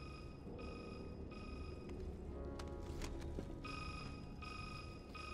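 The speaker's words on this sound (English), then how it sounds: "And if you don't answer the phone, Ada." A telephone ringing in the Resident Evil 6 video game, repeated electronic ring bursts at moderate level over low background rumble, briefly broken by other game sounds.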